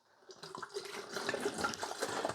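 White vinegar pours into the reservoir of an OXO Brew 9 Cup coffee maker, a close trickling and splashing that starts faint and grows fuller as the stream continues.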